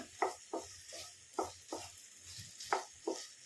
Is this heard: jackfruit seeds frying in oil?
yes